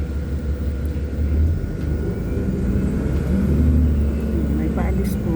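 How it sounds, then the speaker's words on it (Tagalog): An airplane arriving, a low, steady engine rumble swelling slightly over a few seconds, heard from a distance beneath people talking. "may dumating na eroplano"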